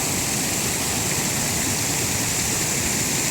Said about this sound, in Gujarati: સરસ મજાની નદી ચાલી રહી છે.